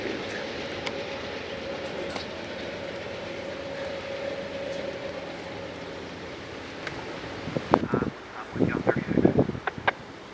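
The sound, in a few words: train 1665 arriving northbound at Fullerton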